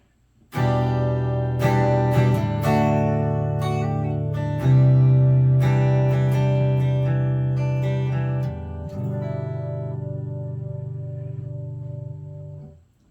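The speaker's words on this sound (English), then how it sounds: "now I'm going to start with the neck pickup, and we're going to go through the clean tones" Clean electric guitar on the neck pickup of a Leo Jaymz Les Paul-style guitar plays sustained chords with ringing notes and a chorus-like shimmer, a few strums held long and decaying toward the end.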